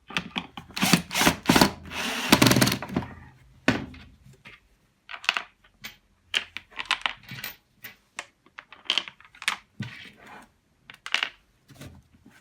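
Screws are driven back into a Numatic Henry vacuum cleaner during reassembly. A loud burst of tool noise opens, followed by many close, short clicks and scrapes in an irregular rhythm.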